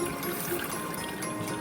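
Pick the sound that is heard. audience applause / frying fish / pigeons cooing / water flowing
water flowing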